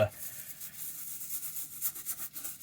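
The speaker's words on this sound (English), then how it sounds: "nylon bristle brush. Work down in there a little bit more." A nylon bristle brush scrubs saddle soap into the suede-like muleskinner leather of a Red Wing Hawthorne classic Chelsea boot, making faint, steady, rhythmic brushing strokes up close.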